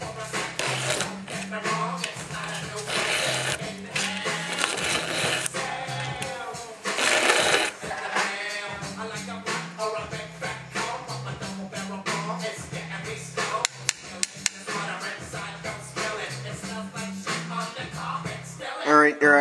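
A hand file strokes across the cutters of an Oregon chainsaw chain, giving repeated rasping swipes in a steady rhythm at close range, punctuated by light metallic clicks and handling knocks.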